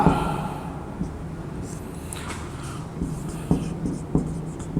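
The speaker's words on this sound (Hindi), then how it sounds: "यहीं पर हम लिख दे रहे हैं" Chalk or marker writing on a board during a Hindi-medium chemistry lesson, a steady scratchy stroking with a few sharp taps, close and fairly loud, without talk.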